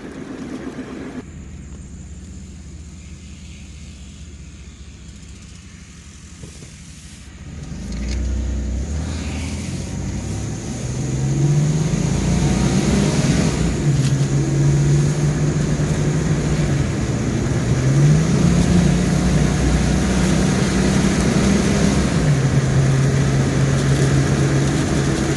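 A 1990 Chevrolet S10 Blazer 4x4, revived after ten years, runs while driving with a wonky steering column; the engine hums low and quiet at first, then grows louder with gear-change pitch climbs and a steady drone, close by.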